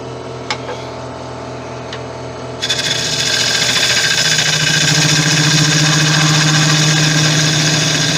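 A wood lathe hums steadily as a tool back-hollows a teak vase, the motor tone joined partway through by a loud, continuous high-pitched scraping of the cutter against the spinning wood, close and unbroken.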